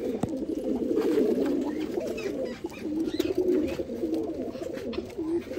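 A kala cheen pigeon pair coos steadily at close range, layered throaty rolling calls with brief dips, and a few faint clicks and rustles behind.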